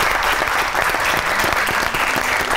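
Loud, dense applause from a studio audience on a Pakistani talk show, continuous clapping filling the room with a steady, close roar and no pause.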